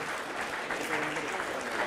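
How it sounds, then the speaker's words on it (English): Audience applause for a panel of speakers at a talk on walkable, livable cities, a steady broadband clatter of clapping hands filling the short moment at moderate level. "may we have a round of applause for them and for a group photo as well"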